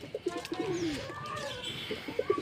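Pigeons coo in a pigeon house, soft repeated throaty coos and a few chirps coming close and fairly quiet, with no one speaking.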